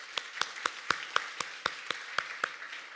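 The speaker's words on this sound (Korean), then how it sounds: "우리 하나님께 감사와 영광의 박수를 드리겠습니다." Steady, evenly spaced hand claps from a church congregation during a Sunday worship service, sharp and moderately faint, keeping an even beat of about four claps per second with no talk.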